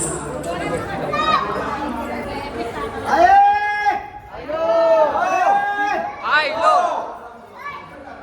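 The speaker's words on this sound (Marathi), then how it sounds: "भरपूर गर्दी आहे" Busy crowd chatter at the Ekvira temple, with many overlapping voices, children's shouts and calls close by, rising and falling in dense waves.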